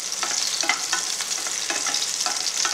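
Onions, tomatoes and bitter gourd sauté in a pan, a constant sizzle broken by rhythmic scrapes of a spoon stirring, close and steady, with no voices.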